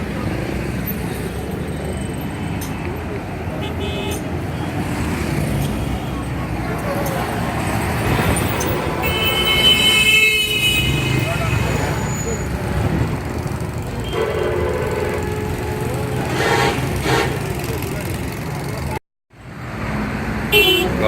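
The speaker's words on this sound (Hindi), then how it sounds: "गाड़ियों का इतवार बाजार।" Busy traffic at a Sunday car market in Pakistan, with engines rumbling and horns sounding at a steady level, and people talking throughout.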